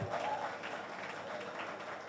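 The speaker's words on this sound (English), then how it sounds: "I think they deserve a round of applause" Faint, steady applause from an audience runs continuously at low level throughout, with no distinct individual claps.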